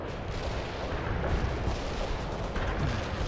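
Continuous rumbling artillery barrage in the World in Conflict: Soviet Assault war game, dense overlapping booms and crackling blasts forming a loud, unbroken roar with no talk over it.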